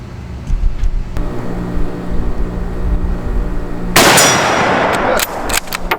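A single loud Nagant M91 rifle shot fires outdoors with a sharp broadband crack and lingering echo, followed by a couple of fainter, briefer bangs.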